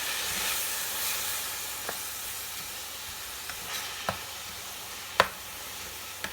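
Half a kilo of ground beef with cumin, turmeric and other spices, with a splash of water, stir-fried in a pan for taco filling. It gives a steady broadband sizzle, and a few sharp spatula clicks land against the pan.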